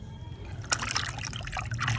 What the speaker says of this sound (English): Water is so clean.